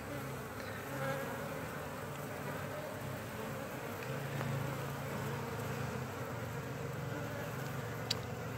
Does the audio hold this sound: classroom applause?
no